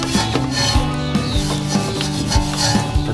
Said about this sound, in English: Clean the barrel of the wheel, pull out slowly.